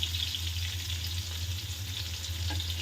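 Pointed gourd (potol) frying in oil over medium heat, a steady bright hiss of bubbling oil holding throughout, close by, with a low hum beneath and one faint clink near the end.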